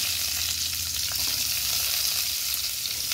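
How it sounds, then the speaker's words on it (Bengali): Green chillies and garlic cloves fry in a little oil in a pan, giving a loud, continuous hissing sizzle with light stirring scrapes and no voices. "তেল দিয়ে এটার মধ্যে আমি দিয়ে দেব সে কাঁচা লঙ্কা এবং যে রসুনগুলো রেখেছিলাম আমি ভেজে নেব"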